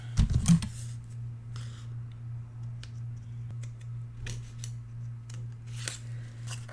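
Scissors trim paper for a horse-themed mini album with a few quick close snips at the start, followed by soft sparse ticks and handling noises over a low steady hum.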